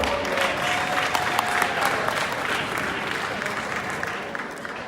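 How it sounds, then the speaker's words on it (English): Audience at a London conference claps in a sustained, even burst of applause. It is fairly loud and close and tapers slightly over about five seconds. "Please let's clap for Jose."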